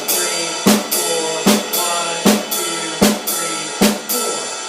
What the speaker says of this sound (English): you're going to start doing a skip beat between the ride cymbal and the snare drum